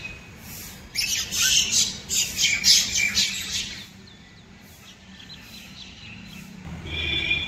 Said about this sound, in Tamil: அதை விட இந்த குருவிங்க சத்தம் கேட்க ரொம்ப நல்லா இருந்துச்சு.